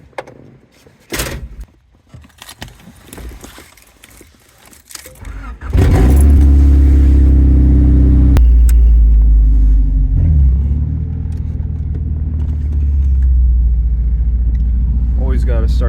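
Honda Accord CB7 on static fitment heard from inside: rustling and a door clunk, then the engine starts and settles into a loud, steady cabin rumble while pulling away, with a voice talking briefly near the start.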